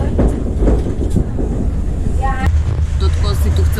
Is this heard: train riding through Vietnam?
yes